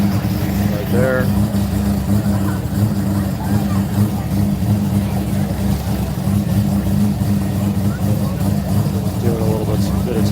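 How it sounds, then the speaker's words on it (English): Rotary-engined Toyota Supra car running steadily, its engine drone continuous and fairly loud throughout, with crowd chatter and voices talking over it. "is that the rotary Supra?"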